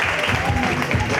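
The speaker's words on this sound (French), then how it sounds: "Le deuxième, applaudissez." Applause for the second-place finisher at a points-based competition round, a dense steady patter of clapping mixed with voices throughout the short burst.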